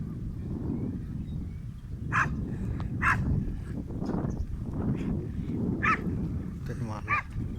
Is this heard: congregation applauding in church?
no